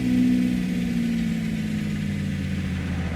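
A Cessna 404 Titan runs on a single engine in a flight simulator game, with the other propeller feathered. It gives a steady, moderately loud droning hum with low, even harmonics that holds for the whole stretch.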